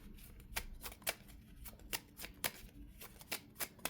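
Tarot cards being shuffled by hand, close up, in a run of quick riffling bursts and soft papery flicks, repeating roughly every half second with no talk over them.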